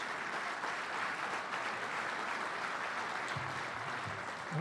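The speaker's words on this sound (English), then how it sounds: "Give them a big round of applause." An audience at the 2017 Kentucky Derby trainers' dinner gives a sustained round of applause for the sponsors, a steady wash of clapping hands filling the room.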